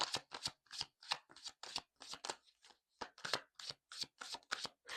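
Tarot cards are shuffled and drawn from a deck in a series of quick, crisp riffling bursts with short pauses between them, close and fairly quiet with no talking.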